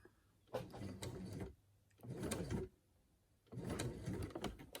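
A sewing machine runs in three bursts while stitching a cloth face mask seam, each run lasting about a second with brief quiet pauses between, close and clear with no talking.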